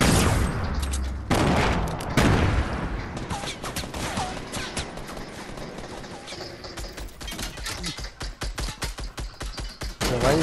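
Fortnite gunfire, with heavy overlapping shots and booms early on that give way to a steady rhythmic run of rapid shots toward the end, loud and close, with some voices underneath.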